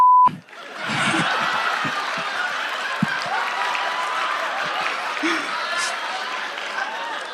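Audience applause mixed with scattered laughter at an Indonesian stand-up comedy competition show, rising after a brief silent start into a steady, moderately loud crowd wash that lasts to the end.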